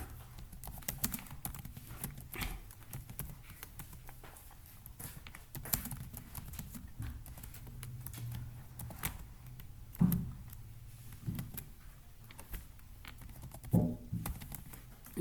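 A computer keyboard clicks steadily at close range as C code is typed in a new file. The pattering keystrokes are quiet and uneven, with a few louder thumps and no speech.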